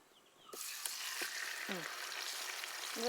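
Tandoori chicken drops into hot oil in a pan, a sudden loud hiss and crackle that bursts in after a quiet start and keeps sizzling steadily up close, with a few faint voice-like tones behind it.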